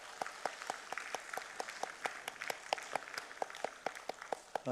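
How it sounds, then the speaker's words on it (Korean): A small group claps in steady, slightly uneven beats at a Korean church Wednesday prayer service, each clap sharp and distinct, moderately close with no voices. "우리 안경순 목사님께, 선교사님께 감사의 박수 돌리고 하나님께 영광의 박수 올리겠습니다"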